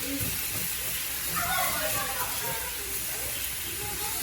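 Meat sizzling in a pan on a home stove, a steady broad hiss that stays close and fairly loud throughout, with a voice talking over it.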